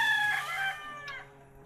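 A free-roaming farm rooster crows once, fairly close, its call rising and trailing off, with faint background hum.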